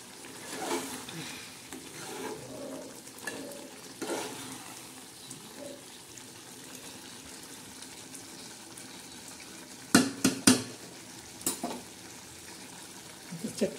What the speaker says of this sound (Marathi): मस्तपैकी गदा गदा आपली चक्की शिजत आहे.